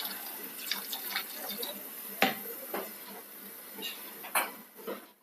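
Water splashes into a pot holding drumstick pieces for sambar, a close, running pour with uneven gurgles and a few light knocks against the vessel.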